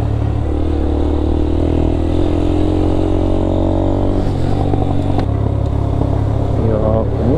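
A Yamaha YBR125 motorcycle rides through a residential area in Nagano and turns left, its engine droning loudly and steadily close to the mic, easing off partway through, with a rider talking over it.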